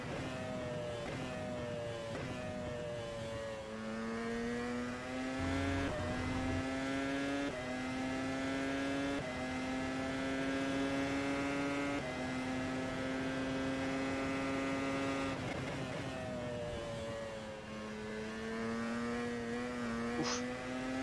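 In the rFactor 2 sim, a naturally aspirated V10 Formula car screams around Silverstone, its engine wailing loud and close, the pitch sagging through brief lifts and gear changes before climbing again, continuous with no voices.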